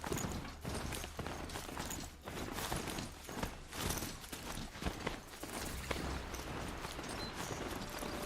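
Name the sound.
horse footsteps, Horizon Zero Dawn video game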